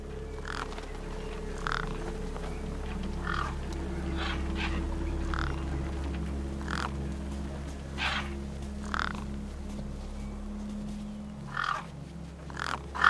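Birds in Beyond a Steel Sky squawk repeatedly in short harsh bursts, spaced irregularly over a constant low mechanical hum, with no voices.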